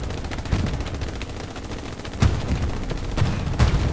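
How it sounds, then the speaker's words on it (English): Gunfire in the World War II shooter game Hell Let Loose, set in Carentan: repeated loud cracks and short bursts over a dense rumble of distant battle, with no voices. "Alright, we're shooting down here."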